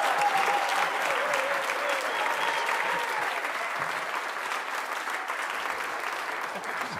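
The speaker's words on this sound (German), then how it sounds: "mit eurem Applaus" Steady applause from a studio audience at a Schlager television show, a continuous wash of clapping hands throughout at moderate level with no talk over it.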